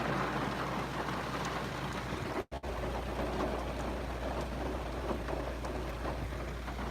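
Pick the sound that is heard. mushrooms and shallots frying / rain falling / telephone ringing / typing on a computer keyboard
rain falling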